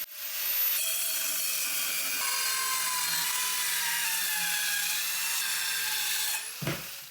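Circular saw trimming a quarter inch off a piece of walnut plywood for a desk shelf, a loud steady high-pitched whine held for several seconds, then the blade spinning down at the end, no voices.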